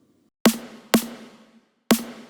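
Three sharp, aggressive snare drum hits from a triggered high snare sample in Waves InTrigger, each with a bright crack and short ringing tail, spaced unevenly and heard alone.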